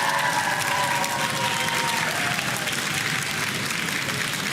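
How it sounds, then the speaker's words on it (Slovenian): Studio audience applause for both teams on a Slovenian quiz show, loud dense clapping with some crowd noise, sustained evenly from start to finish. "Dajmo en aplavz."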